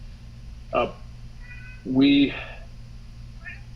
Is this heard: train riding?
no